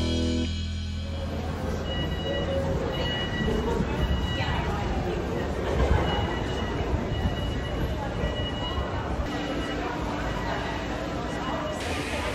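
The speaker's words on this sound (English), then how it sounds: "We're just heading back on the tube now." A London Underground tube train ride, heard from inside the carriage as a continuous loud rumble and rattle of wheels and car body, with faint voices in the background.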